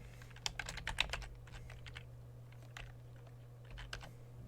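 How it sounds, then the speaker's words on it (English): Keys click on a computer keyboard as a password is typed, a quick burst of soft close taps followed by a few scattered keystrokes over a low steady hum, with no talk. "you got to enter in your password."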